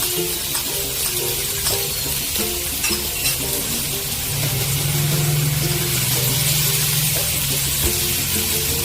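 Chopped onions roasting and stirred in a frying pan of spice paste for a fish jhal curry, with a steady close sizzle and scraping stirs throughout, no talking.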